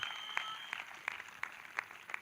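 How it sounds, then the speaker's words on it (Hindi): A church congregation claps during a Sunday worship service in Tajpur, giving steady rhythmic claps about three per second. The clapping is fairly faint and roomy, with no talk over it. "जितनों को ये बात समझ में आ गई है वो ताली बजाकर धन्यवाद कर रहे हैं"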